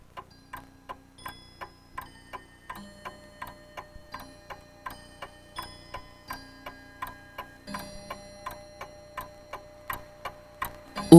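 A household clock ticks steadily in a quiet home outside London, each tick crisp and evenly spaced at about two per second, with a faint low hum beneath and no voices.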